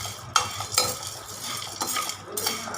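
Spices, lentils and peanuts dry-roasting on low heat for moringa leaf powder, stirred with a spoon against a pan in quiet, irregular scrapes and clinks over a faint crackle, no talking.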